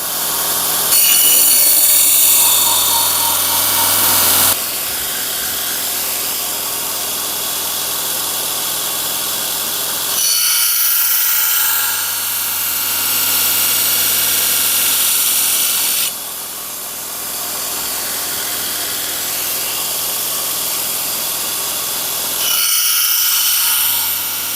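Belt grinder sharpening a hewing hatchet on fine grit belts, loud close abrasive whirring in repeated passes, alternating between harsher grinding and a lower motor drone.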